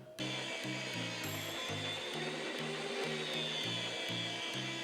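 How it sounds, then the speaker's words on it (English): A motorized meat slicer slices a wild game roast with a steady whirring drone, its blade pulsing in a regular chugging rhythm of repeated passes, close and fairly quiet. "We can throw this right in our meat slicer."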